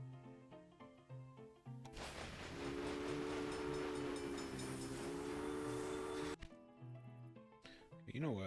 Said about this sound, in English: This one poor train is doing a lot.